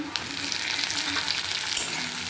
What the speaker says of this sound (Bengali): টমেটোটাও একটু ভেজে নেব